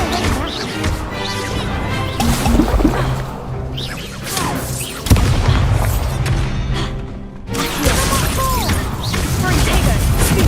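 Confringo, an explosive fire spell, cast in Hogwarts Legacy amid other spells during combat: loud crashing blasts and booming impacts over dense battle noise, with a voice calling out spell names.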